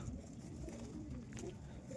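Fantail pigeons coo softly at a home, low murmuring calls repeating against a quiet ambient background.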